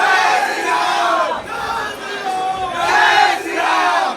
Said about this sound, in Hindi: और भीड़ देखो आप किस लेवल की भीड़ है यार, गजब भीड़